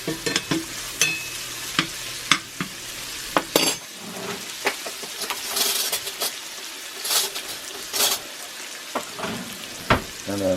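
Fat sizzles steadily in a cast iron pan while gravy is started for biscuits, with a metal utensil clinking and scraping against the pan in sharp intermittent knocks over the continuous frying hiss.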